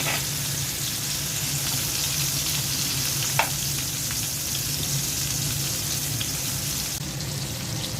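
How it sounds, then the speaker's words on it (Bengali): Eggplant pieces coated with turmeric, chili and salt fry in oil in a frying pan, giving a steady, dense hiss with a single faint tap partway through. "বেগুনগুলো দিয়ে দিচ্ছি"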